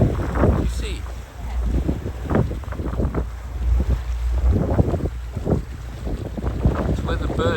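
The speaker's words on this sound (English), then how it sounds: "These are the yachts maneuvering at the start of the first leg of the World Arc" Wind buffets the microphone over open water as sailing yachts maneuver at a race start near Panama, with a voice speaking on and off throughout.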